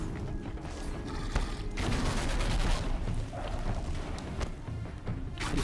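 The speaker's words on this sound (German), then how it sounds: "Ich treffe meine Schüsse gerade nicht so gut." Dense, rapid gunfire in Horizon Zero Dawn: The Frozen Wilds crackles over a constant wash of mechanical clatter and noise, with a few sharper shots standing out.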